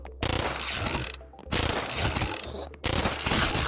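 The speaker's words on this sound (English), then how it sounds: "I added a small cooldown to the cap gun to give it some restrictions while still keeping it pretty fast" In a roguelike video game, a cap gun fires in rapid bursts, a fast rattling crackle of shots. Three bursts are separated by short silent gaps, each loud and close.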